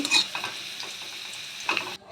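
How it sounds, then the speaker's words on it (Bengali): Peanuts dry-roasted in a wok give a faint rustle, with a couple of scraping stirs at the start and near the end, close and quiet before it cuts off. "বাদামটা শুকনো কড়াইতে ভেজে নিচ্ছি"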